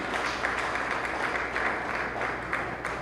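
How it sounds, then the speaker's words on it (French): Sustained audience applause at a centenary celebration honouring writer Jacques Stephen Alexis, a dense, steady wash of many hands clapping in a hall, moderately loud and even throughout with no talk over it. "Sous vos applaudissements, mesdames, messieurs."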